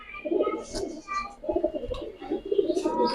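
A red-headed homing pigeon gives a few soft, low coos in short bursts, close by and fairly quiet, with faint background noise between them.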